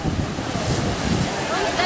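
Strong waves crash at the shore in Dingalan, Aurora, a loud, continuous roar of surf mixed with heavy wind buffeting the microphone.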